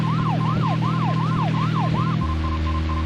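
A warbling electronic low-fuel alarm in the video game Deadly Premonition rises and falls in about six quick repeated sweeps over a steady car engine drone, then cuts out, leaving the low hum.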